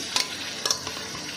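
A Bengali prawn spice paste of chilli powder and salt frying in a pan after warm water is added, a soft hiss broken by two quick scraping stirs of a spoon against the pan, close and without talk.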